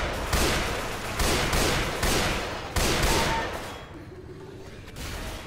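Gunfire in the co-op zombie shooter Left 4 Dead 2: several loud, sustained bursts of rapid automatic fire in quick succession, dense and close, tapering off to quieter ambient game sound near the end.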